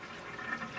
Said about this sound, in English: You hear the toilet clear the bowl, and you can see the water that's being used.